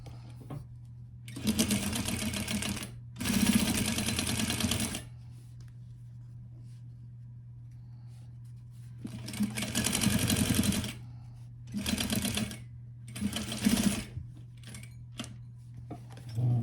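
A sewing machine stitches across a fabric pouch piece corner to corner in several separate bursts of steady whirring, with quiet pauses between runs and no talking.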